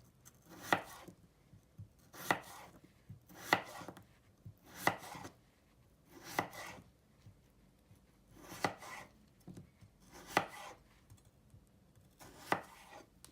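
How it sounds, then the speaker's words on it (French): A knife cuts a potato into pieces on a board, giving about nine fairly quiet, evenly spaced chopping thuds roughly every second and a half, alone with no talking. "on reprend une patate, on la recoupe en deux, hop, et on la coupe en morceaux"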